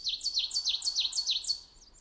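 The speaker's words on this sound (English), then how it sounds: "if you're out and you hear this call, it's gonna be an Ovenbird" An Ovenbird sings a loud, rapid series of about eight to nine sharp, repeated two-part phrases in steady rhythm, fairly close and clear, ending abruptly with a faint trailing note over a quiet background.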